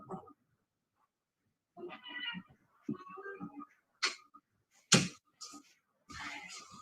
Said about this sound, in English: my cats are trying to leave the room